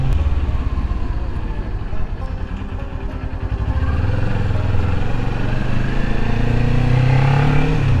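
A 2022 Kawasaki Ninja 400 on its stock exhaust pipe rides through Lincoln Heights streets, its engine loud and close, rumbling steadily before the pitch climbs as it revs and pulls away.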